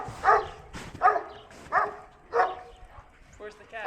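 A dog barks and yips in short bursts about five times, loud and close, repeating at roughly half-second to one-second intervals.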